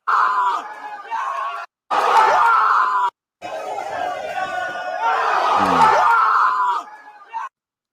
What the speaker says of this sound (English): You see some people screaming and yelling.